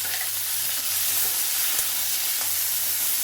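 Tomato and green chili dropped into frying onion, ginger and garlic for a masala chicken gravy, a loud, dense, continuous hiss of sizzling close to the pan, no voices.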